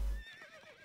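A horse whinnies in the Stronghold Crusader HD strategy game, a wavering high neigh heard over muffled battle clatter after a short low thump at the start.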